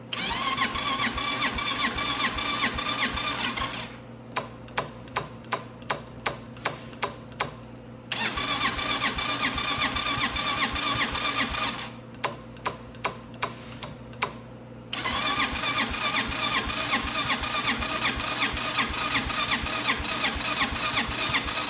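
Venom X22gt 250cc motorcycle engine, freshly rebuilt, cranking over with two bursts of rhythmic starter clicks and churning between stretches of steady loud mechanical running, close up and alone without talk.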